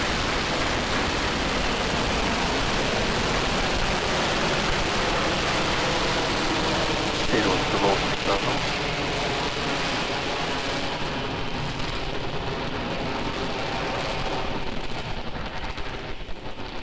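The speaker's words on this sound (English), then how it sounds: "Ignition, liftoff." A Falcon 9 Block 5 rocket carrying a Crew Dragon capsule roars off pad 39A during an in-flight abort test, a continuous dense rumbling crackle that holds steady for many seconds and thins slightly toward the end.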